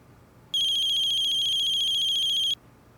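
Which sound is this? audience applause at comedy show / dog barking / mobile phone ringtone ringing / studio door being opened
mobile phone ringtone ringing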